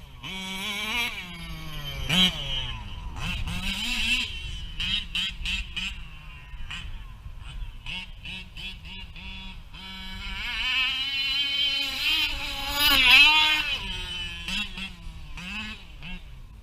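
A 1/5 scale nitro RC race car engine buzzes and revs repeatedly, its high whining pitch swooping up and down in bursts with brief pauses, fairly loud and continuous.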